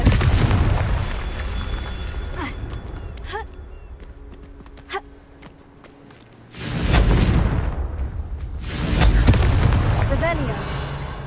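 In the Hogwarts Legacy video game, the Confringo fire spell explodes in heavy, rumbling booms that swell loud and then trail off, with a spoken voice between the blasts.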